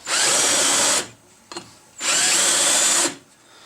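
A step drill bores into a steel disc brake bracket in two loud, steady high-pitched whining bursts about a second each, separated by a short pause with a small clunk, close up and without talk.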